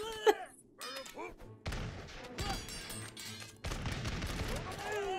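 Musket volleys from a battlefield in the video game Totally Accurate Battle Simulator, with scattered gunshots building into dense overlapping fusillades over a steady rumble, and voices talking across the firing.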